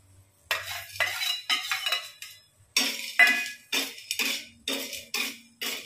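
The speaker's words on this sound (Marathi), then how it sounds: "त्यावरती आता मीठ भाजून घेते" Salt roasting on an aluminium tava is stirred and scraped with a utensil in short repeated bursts of gritty scraping and metallic clinks, close up, separated by brief pauses.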